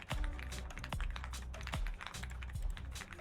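Keystrokes rattle steadily from a personal computer keyboard, a fast run of close, crisp clicks and taps with occasional heavier thocks, continuous for a few seconds with no talking.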